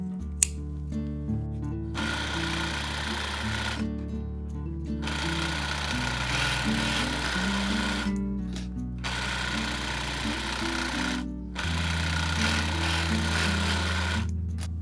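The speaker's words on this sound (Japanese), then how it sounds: "肩も同様に1センチほど残して縫い代カットしてオーバーロックで始末します。" An overlock sewing machine stitches the shoulder seam allowance of a remade sweater, a loud fast whirring hum in long bursts with brief pauses between runs, close up and without talk.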